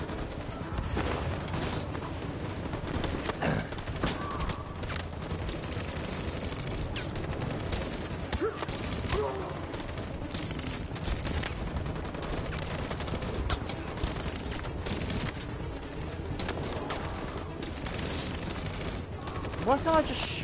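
Dense gunfire in the video game Detroit: Become Human, with rapid bursts and volleys rattling steadily throughout while a player talks over the action.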